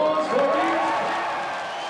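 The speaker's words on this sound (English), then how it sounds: "let's have a round of applause for you." An arena crowd at a bare knuckle boxing event cheers and applauds fighter Beck Rawlings after a TKO stoppage, a loud, dense roar with whoops that eases slightly over two seconds.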